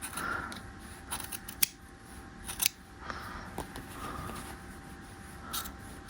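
Scissors snip and trim the seam allowance of a jacket fabric and Melton on a half-scale jacket, making a few sharp close cuts between quieter rustling of the fabric.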